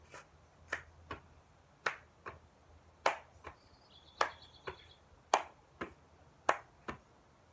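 A kindergarten ball drill repeats with sharp, close hand claps paired with softer ball bounces in a steady rhythm, about a dozen crisp hits over several seconds in a quiet room.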